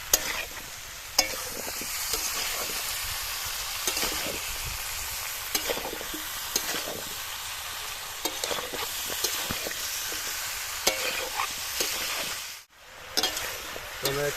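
Chicken curry sautéing in a pan, restaurant style, with a spatula scraping and stirring: steady sizzling frying under repeated scrapes and clacks of the utensil, close and fairly loud, with a brief pause near the end.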